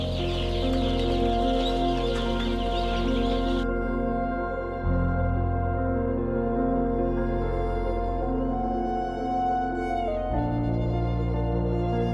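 Laying hens cluck and call continuously in an egg farm barn over a steady mechanical hum, with no voices.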